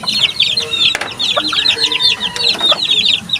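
Chickens cluck repeatedly at close range, short bursty calls in quick runs with a few sharper squawks, loud and clear with no talk over them.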